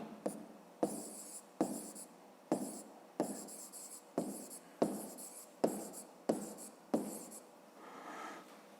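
Handwriting on paper while working a fifth-grade maths exercise: about ten short, regular scratching strokes, each beginning with a sharp tap, close and quiet, with no talking.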